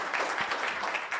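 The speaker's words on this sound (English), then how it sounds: "Just a round of applause." Audience at a Muslim medical professionals' scientific conference in Kenya clapping for a speaker, a brief, fairly faint burst of scattered applause.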